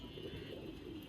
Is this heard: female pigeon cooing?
yes